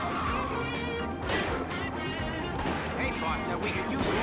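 Gunshots and crashing impacts in the Starsky & Hutch PS2 game ring out under steady game music while people talk over the action.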